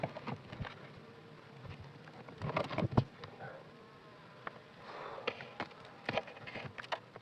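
Honey bees buzz softly around a close, quiet space at a beginner's hive in winter, with scattered light taps and rustles in between and no talking.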